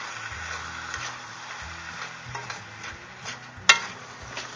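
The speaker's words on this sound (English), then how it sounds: "And then just give it another good stir." Hamburger meat browning in a pan is stirred with a utensil that scrapes and taps against the metal, with one sharper clack, under a soft steady sizzle and low hum, close and quiet with no talking.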